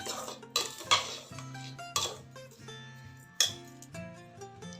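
A spoon stirs sugar into hot black kavuni rice porridge in a metal pot, giving repeated sharp clinks and scrapes of metal on metal with short ringing tones in between, close and fairly quiet.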